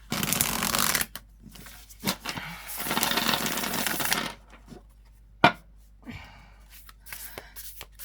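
A tarot card deck is shuffled in two long riffling bursts with shorter flicks and taps between, close and clear, with faint talk in the quieter moments.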